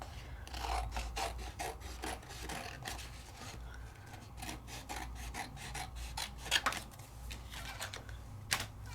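Scissors or a craft tool cutting out a piece of crafting material, a run of close, steady rasping and snipping strokes with a few sharper cuts near the end.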